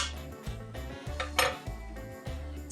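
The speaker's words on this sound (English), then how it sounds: "Use my ThermoWorks spatula to just make a big mess in this pot" A ThermoWorks spatula scrapes and knocks around a pot while stirring in tomato paste, giving repeated close clanks and scrapes with a few sharper hits, and nobody speaking.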